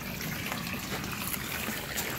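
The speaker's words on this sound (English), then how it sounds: "As you can see, that is the water fresh from the lake." Lake water rushes from a powerful pond pump into a backyard pool as a steady, dense gushing splash that stays constant and close throughout, with no talking.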